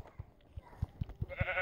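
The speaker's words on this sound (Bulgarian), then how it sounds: "Тук има черна овца." Sheep in a video game give a short run of soft, low bleats, about six in quick succession, faint and close, with no talk over them.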